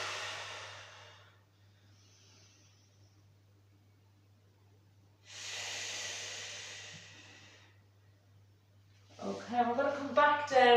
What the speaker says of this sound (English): Nice big inhale here.